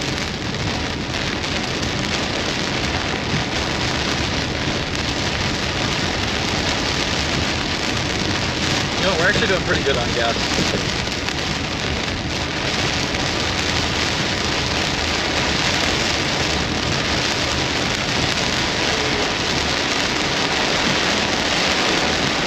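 Steady heavy rain from a line of thunderstorms in Iowa pours continuously, dense and close, with a brief passing voice barely noticeable under the downpour.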